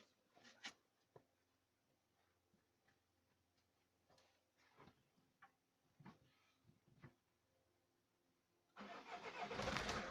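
Car engine cranking and catching during a clutch and flywheel replacement, preceded by faint clicks and ticks, then a loud start near the end.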